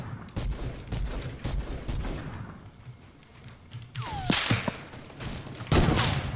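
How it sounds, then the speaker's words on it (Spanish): Gunfire goes off on its own in a shooting game, with scattered sharp shots, mechanical clicks and creaks, then a louder cluster of blasts near the end. "Ah, se me ha disparado solo."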